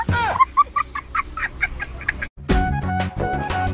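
A rooster and hen sound effect plays in a comedy sketch: a run of sharp, rhythmic clucks, then a short pause and a louder burst of crowing and clucking.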